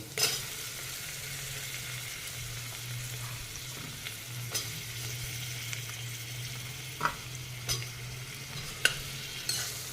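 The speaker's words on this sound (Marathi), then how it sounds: "हा कांदाही परतून घ्यायचा" Onion stir-fries in a pan for a restaurant-style mushroom bhaji: a low, steady sizzle runs throughout, broken by occasional sharp scrapes and taps of the spoon, fairly quiet and close.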